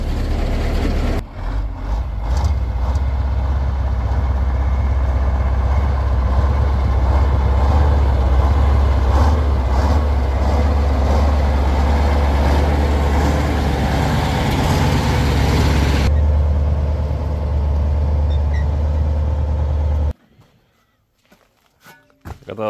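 A KrAZ truck's diesel engine runs steadily in a low, heavy drone as the truck drives up to a garage, then cuts off abruptly near the end. The truck is blowing blue smoke before an injector tip change.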